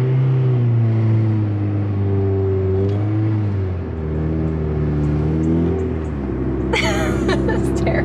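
A race car engine revs and strains in gear, its pitch rising and falling with throttle, before a sharp higher burst near the end; a person speaks over the engine.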